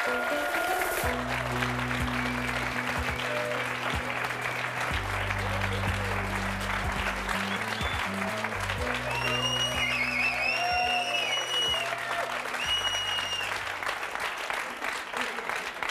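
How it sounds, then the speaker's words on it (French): Warm studio applause from a French talk-show audience greeting a couple, a steady, dense roar of clapping lasting throughout, with a low musical backing playing underneath. "Je vous demande de les applaudir très chaleureusement, Sarah et Édouard"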